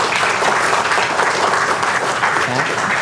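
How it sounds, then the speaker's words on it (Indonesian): An audience at a Kangen Water business presentation in Bandung applauds, dense continuous clapping that stays loud and even from start to finish, close and crowded. "Tepuk tangan buat kita semua Bapak sekalian."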